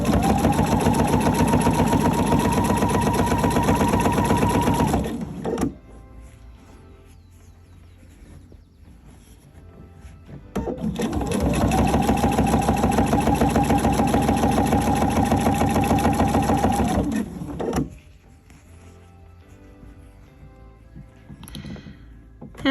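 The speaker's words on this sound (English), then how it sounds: "I'm going to just continue stitching around my tree skirt" A sewing machine stitches bias tape around the edge of a tree skirt in two long, steady runs of loud motor hum, each about five seconds, separated by a quieter pause.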